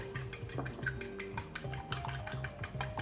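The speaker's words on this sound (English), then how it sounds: "Some egg, and then just a tiny bit of milk. Now, and you whisk it." Egg and milk being whisked in a bowl for an egg wash, a quick, regular run of light metallic clinks that keeps up throughout. The sound is quiet and close, with nobody speaking.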